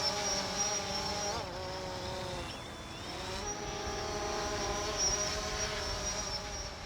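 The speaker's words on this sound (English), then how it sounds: "The drone makes less noise and also allows us to go into the colonies." A steady high-pitched whine of a drone hovering overhead above mangroves in Senegal's Saloum Delta, with pitch that dips and rises slightly as it moves, over faint outdoor background.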